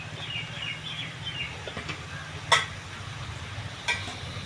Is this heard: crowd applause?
no